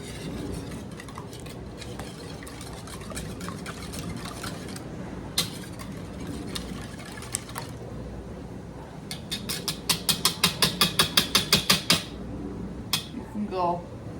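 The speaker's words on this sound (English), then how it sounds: "So I'm just gonna make sure all these yolks are broken up, and we're gonna whisk it together." Eggs with garlic salt are whisked in a bowl, giving a run of rapid rhythmic metallic clinks that grows louder toward the end, with scattered utensil taps and a voice talking beneath.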